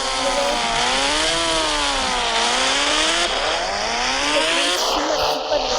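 Motorbike engine in an Indian 3D bike video game, revving loudly and continuously with the pitch swinging up and down as the throttle changes.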